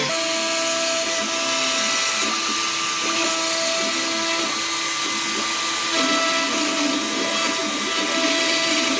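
An X-Carve CNC router carves a wooden US Coast Guard plaque, giving a steady, loud, close whine with shifting tonal pitch as the bit moves and seems to drag a little.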